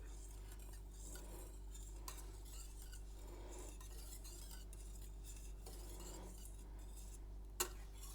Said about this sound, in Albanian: E përzij.